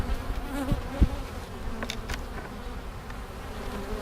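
A low, steady drone of honey bees buzzing at a hive during winter preparations fills the background, close and continuous, with a few faint knocks.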